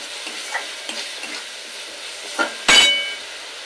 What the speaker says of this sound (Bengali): আর দিয়ে দেবো এই বেটে রাখা মশলা। মশলাটা 2 মিনিট কষিয়ে নেব